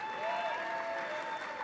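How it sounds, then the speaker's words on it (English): A crowd at an awards gala applauds steadily for a moment, a dense wash of clapping from many hands with a faint tone hovering over it. "Give them a round of applause as well, led by Chairwoman Amy Chapman."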